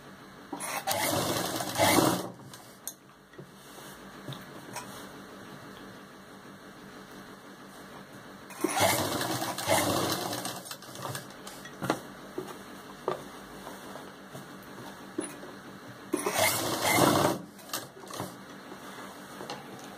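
Sewing machine stitching around the rounded neckline of a lehenga choli blouse, running in three close, steady bursts of whirring with quieter pauses between them, no talk.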